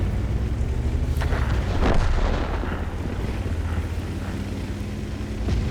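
Tank gun fire and a heavy shell explosion in World of Tanks, as a T54 medium lands the kill shot: a deep boom near the two-second mark over a constant rumbling battle din, with no talk.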